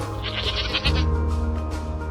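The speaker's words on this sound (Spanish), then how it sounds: "se oían balidos y más allá, en el otro extremo del recinto, había unas cuantas cabras." Goats bleating inside a straw-covered enclosure, several wavering calls overlapping near and loud, with a lower sustained bleat carrying through the second half, no voices.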